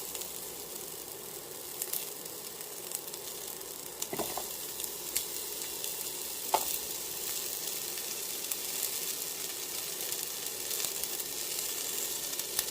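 Zucchini frying in a pan gives a steady, close sizzle that runs throughout, with occasional soft clicks and pops and no voices.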